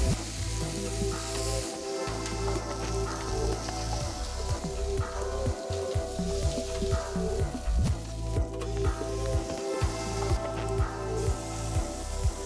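Springbok meat searing in a hot pan, a steady loud sizzle and crackle that holds throughout with no voices.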